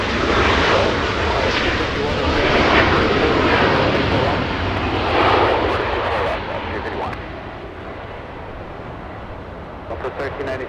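An airliner landing on the north side runway at LAX roars loudly and close, a dense jet rumble that holds strong for about six seconds and then eases into a fainter, fading whine.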